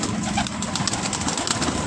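Pigeons cooing softly during morning feeding, low murmuring coos over a busy background of rustling and faint bird calls, continuous throughout.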